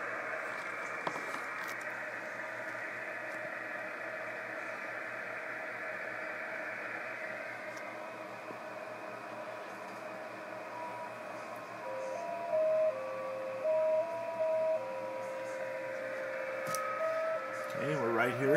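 Steady radio hiss carries a long, even JT65 digital-mode tone on the 10-meter band, played through a laptop speaker into the radio mic, later shifting into stepping, beeping pitches like a machine sending coded data.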